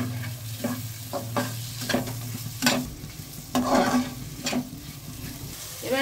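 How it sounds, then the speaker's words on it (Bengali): Prawns stir-fried in a cooked-down spice masala for a prawn and Malabar spinach chorchori, with a steady sizzle under repeated spatula scrapes and stirring strokes close by, a low hum beneath. "চিংড়ি মাছটা এর মধ্যে দিয়ে কষিয়ে নেব"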